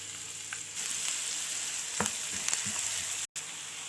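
Onion and garlic frying in a shallow layer of oil in a pan, a steady close sizzle with occasional sharper pops and crackles.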